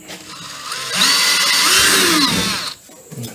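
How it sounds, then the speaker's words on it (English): Power drill biting into a broken wheelbarrow during a farm repair, a single loud whirring burst of about a second and a half rising over quieter handling noise, then winding down. "So let's drill down here."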